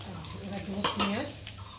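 Onion added to hot oil after garlic, frying with a soft sizzle while a spoon or spatula scrapes and stirs in a pan, close and fairly quiet.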